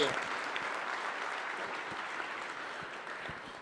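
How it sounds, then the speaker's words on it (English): A conference audience at an information-security event gives a round of applause, a fairly faint, even clatter of many hands heard from some distance that slowly tapers off. "And for that, they deserve a round of applause."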